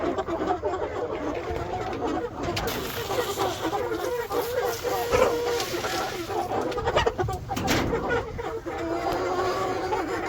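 Several chickens in a brooder cluck and chatter close by, with irregular bursts of clucking and some shuffling noise throughout.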